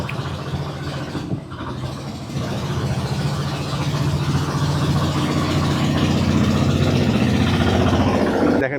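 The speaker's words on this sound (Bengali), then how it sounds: "এখানে একটা নৌকা এবং একটা ট্রলার আসতেছে" A motor trawler boat's engine chugs with a steady low throbbing drone that grows louder and closer as it approaches over the water, continuous with no talk.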